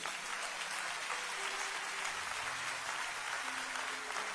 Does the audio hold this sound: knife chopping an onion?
no